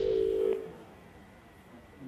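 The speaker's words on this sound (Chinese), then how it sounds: "我们再次拨通了小阮的电话。" A telephone call being placed, with a steady dial-type tone for about half a second that then cuts off, followed by quiet line hiss.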